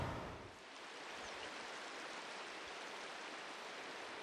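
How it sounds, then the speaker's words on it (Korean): Duta waterfall in a deep Yanggu valley pours in a steady broadband rush of falling water, continuous and even, heard alone without talk. "폭포입니다, 여기가. 두타 폭포."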